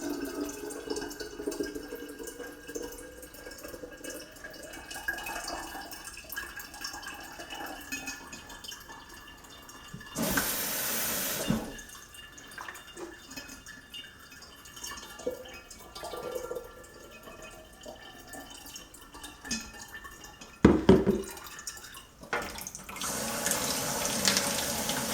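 Tap water rinses worm culture substrate in a small strainer, heard as a close, low splashing trickle with two loud bursts of full running water.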